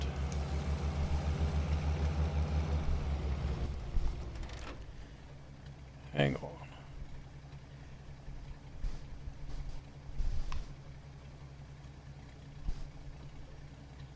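A truck fitted with a tiny engine in the SnowRunner driving game drones with a low, steady rumble for the first few seconds, then drops to a quieter idle, with a brief spoken remark over it.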